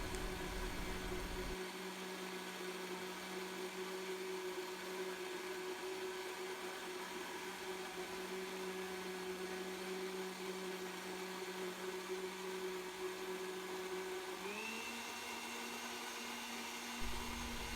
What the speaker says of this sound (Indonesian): maka blender lagi sedikit agar semua bahannya tercampur secara merata dan sempurna.